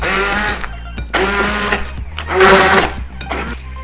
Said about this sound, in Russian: Сейчас мы измельчим ее погружным блендером.